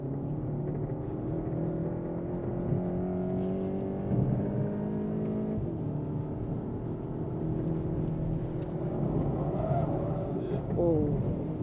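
A car laps a race track on grippy track tyres, its engine droning steadily at a close, even level for the whole stretch with shifting tonal harmonics as revs rise and fall.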